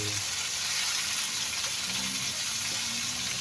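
Vegetables frying in a pan with sardines, egg, onion and tomato, a steady loud hiss and crackle with faint stirring underneath.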